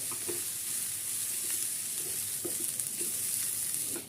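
Carrot, onion and curry leaves sizzle steadily in hot oil, with a continuous bright crackle and occasional soft clicks of stirring close by, no voices.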